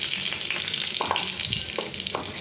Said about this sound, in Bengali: ফোড়নে আমি দেবো দুটো শুকনো লঙ্কা আর হচ্ছে কালো জিরে